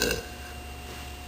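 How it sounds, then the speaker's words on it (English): One person lets out a single short burp, loud at the start and quickly fading into low room hiss. "I haven't burped like this in like a year though"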